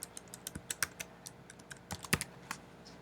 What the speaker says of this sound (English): just type in a command